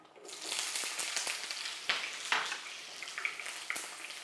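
Onion and curry leaves sizzle in hot oil for a tempering, a steady close crackle broken by sharp spits and pops, with no voices.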